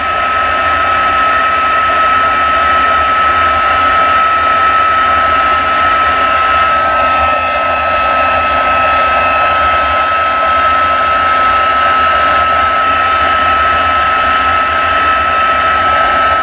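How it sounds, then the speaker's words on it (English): A heat gun blows a steady, loud, unbroken whirring hiss while it heat-embosses a Christmas card, with no change in level from start to finish. "So we're just going to heat set Merry Christmas."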